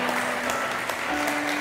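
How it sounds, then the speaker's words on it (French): Brief, steady applause from an audience at a talent show, a dense wash of many hands clapping at a moderate level, with a faint hum running underneath. "Est-ce qu'on peut applaudir pour eux?"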